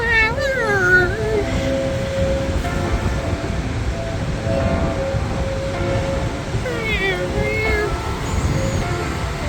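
Eerie, wavering organ-like tones from concealed organ pipes in a seaside monument, played by the sea breeze, drift and slide over a steady rush of wind and surf, with a voice briefly singing along.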